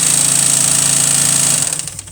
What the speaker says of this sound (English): once I flip this switch, it engages the belt here, and then it winds this bobbin